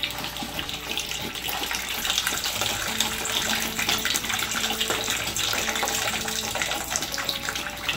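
Water is hand-pumped into a bowl while making ginger peach tea, a steady, continuous gushing and splashing that fills the whole stretch at moderate loudness with no talk over it.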